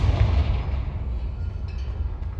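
A Confringo explosive spell blast in Hogwarts Legacy, a loud, deep booming burst with heavy low rumble that rolls on for a couple of seconds, with no voices over it.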